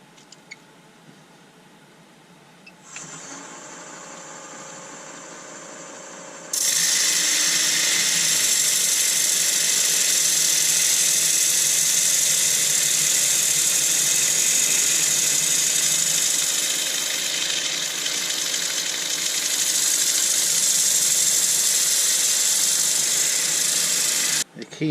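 An elm flower pot, still slightly wet, spins on a wood lathe while 80 grit sandpaper is pressed against it. A steady, loud whirring hiss starts after a quieter motor hum and runs on continuously, with no talk.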